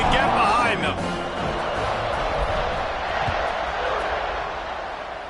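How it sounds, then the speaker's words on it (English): A football stadium crowd roars steadily in the background as the kickoff approaches, a broad, distant wash of cheering that runs under a commentator's continuous talk. "They're set to kick it off, and this crowd now ready to get behind them"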